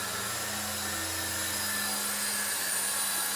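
Heli-Max Novus CX 4-channel 2.4GHz RC helicopter flying indoors, its small rotor and motor giving a steady, thin buzzing whine with a faint hum, quiet and unbroken throughout.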